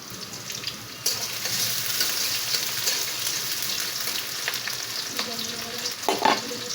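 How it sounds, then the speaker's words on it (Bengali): Chopped onions crackle and hiss in hot oil in a pan, with loud spatula scrapes and stirring clatter close by. "পেঁয়াজগুলোকে আমি ভালো করে নেড়ে চেড়ে নেব।"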